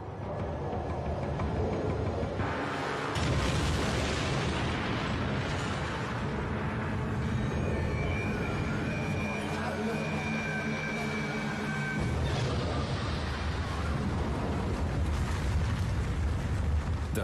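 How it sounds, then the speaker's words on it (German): A deep, sustained roaring rumble of a massive explosion, the Fat Man atomic bomb over Nagasaki, fills the whole span with dense, unbroken low thunder and swelling bursts, loud and continuous without any break. "Drei Kilometer von Nagasakis Innenstadt entfernt explodiert Fat Man."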